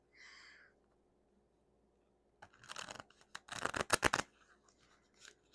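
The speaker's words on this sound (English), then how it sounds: "I'm shuffling on my knee currently instead of on my desk." Tarot cards are shuffled on a knee, close by and quiet, with a short swish followed by a pause and then a burst of rapid riffling and papery flicks.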